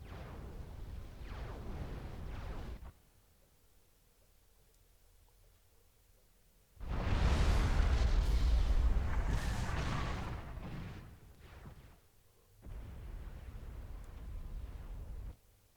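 Artillery fire in a 4v4 Supreme Commander 2 match on the Heart of the Depth map comes as three long, rumbling barrages of blasts, loudest in the middle, separated by quiet gaps.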